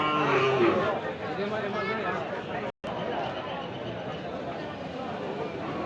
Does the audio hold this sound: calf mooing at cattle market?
yes